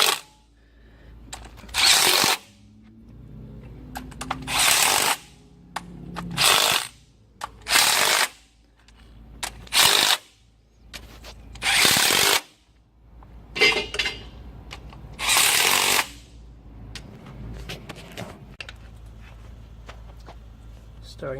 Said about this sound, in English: You want to tighten those down to 44 pounds, including the 18mm bolt back here.